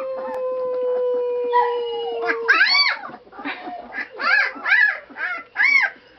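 A dog howls in a series of rising and falling wails, close and fairly loud, after a long steady tone at the start.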